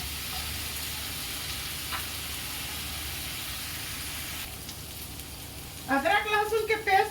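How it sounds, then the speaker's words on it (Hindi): Ginger garlic paste fries in a pan for a besan sev curry, giving a steady, close sizzling hiss. A voice speaks briefly near the end. "इसमें मैं अदरक लहसुन का पेस्ट डाल देती हूँ। इसे अच्छी तरह भून लेती हूँ।"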